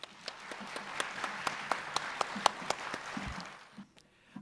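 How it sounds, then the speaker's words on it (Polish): Applause from the audience at a Silesian carnival concert: a moderate, somewhat distant patter of clapping with a few sharper individual claps standing out, fading to near quiet by the end. "Wielki brawa do was samych."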